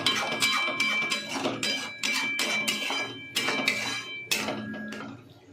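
Masala being stirred and fried in a pot for paneer biryani, with repeated metallic scraping and clinking of a spoon against the pot, steady and close, with no talking.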